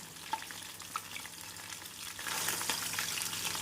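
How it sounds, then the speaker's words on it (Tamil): Mushrooms double-fry in hot oil with a steady, soft crackling sizzle, faint and close, brightening and intensifying toward the end, with no talking. "நாம் காளானை டபுள் ஃப்ரை செய்வதால் போட்டு இரண்டு நிமிடத்திலே நாம் எடுத்து விடலாம்"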